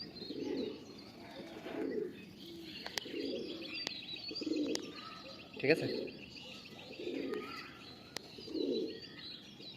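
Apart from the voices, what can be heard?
Tikki line pigeons cooing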